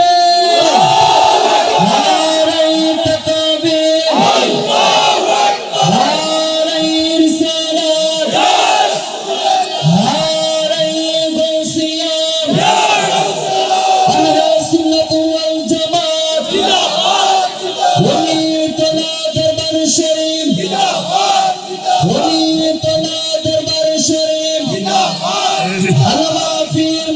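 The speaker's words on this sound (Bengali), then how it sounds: "নারে তাকবীর, জোরে স্লোগান যাতে ঈমান তাজা হয়" A large crowd at a Bengali Islamic sermon gathering in Comilla chants the Takbir, roaring "Allahu Akbar" in loud, repeated rhythmic call-and-response waves that fill the space.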